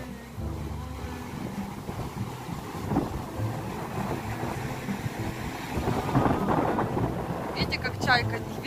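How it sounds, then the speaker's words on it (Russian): Steady strong wind buffeting the microphone with low rumbling gusts throughout, while a person speaks over it. "Ветер очень сильный."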